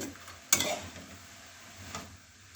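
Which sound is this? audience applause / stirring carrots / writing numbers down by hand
stirring carrots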